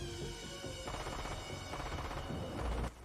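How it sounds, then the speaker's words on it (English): Gunfire mixed into a song plays as a dense burst of rapid, booming shots over loud music throughout, ending abruptly. "Why is there gunfire in this song?"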